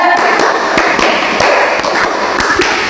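Crisp group clapping in a brisk rhythm, sharp claps repeating at regular intervals over a roomy background; no talking.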